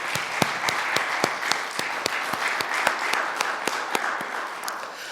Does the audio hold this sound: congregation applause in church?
yes